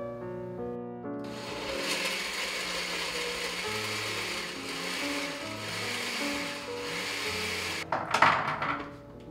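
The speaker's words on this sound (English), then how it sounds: "what I'm gonna do is turn it on and then I'm gonna pulse it to just get everything blended." A kitchen blender pulses ingredients into a puree, its motor whirring loudly and steadily for several seconds before ending with a rattling clatter near the close; no one speaks.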